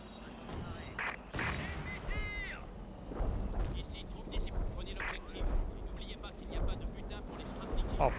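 An artillery bombardment in Company of Heroes 2 lands as a series of deep booms and rumbling blasts, with someone talking excitedly over the battlefield noise.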